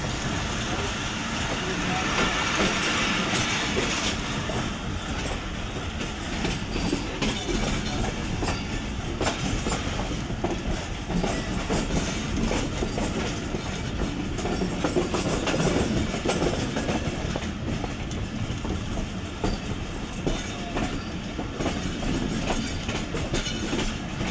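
Awam Express passenger train with old coaches running on rails near Rawalpindi, a continuous loud rumble and rhythmic clickety-clack heard from onboard, steady throughout.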